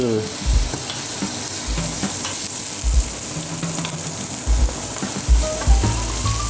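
Shallots sizzle and fry steadily in a pan as they brown, a dense continuous crackle with occasional low thumps of stirring close by, no talk.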